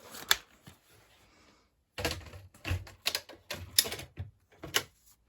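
Scissors snip a diagonal corner off a time-worn vintage-style paper tag: a faint early snip, a pause, then a quick run of crisp, close cuts and rustles.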